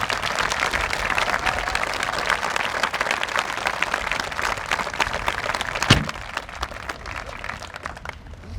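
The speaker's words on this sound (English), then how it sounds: "How about another round of applause for them?" An audience at a memorial ceremony gives a round of applause for a music ensemble, dense steady clapping that carries on for several seconds before thinning out near the end.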